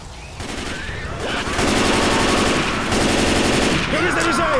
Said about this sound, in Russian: Перезаряжаю! Прикрываю вас еще отсюда.